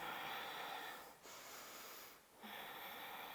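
Deep, audible nasal breathing held through a yoga warrior pose, long airy inhale-exhale cycles with brief pauses between breaths, close and steady, with no talking.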